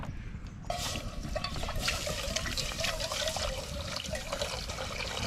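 Water runs steadily into a camp pot for a rinse at a truck campsite: a sudden onset, then a sustained close splashing trickle against metal, with faint background noise and no speech.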